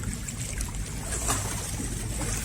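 Choppy seawater sloshing and lapping along the rocky Manila Bay shore, a steady rough wash with no voices, fairly faint and continuous.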